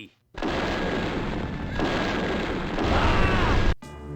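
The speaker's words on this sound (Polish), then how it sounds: "Nie, to wybucha, okej." A barrel blows up in a war video game, a sustained loud roaring blast lasting several seconds that cuts off abruptly, with no talk over it.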